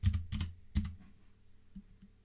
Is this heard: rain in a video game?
no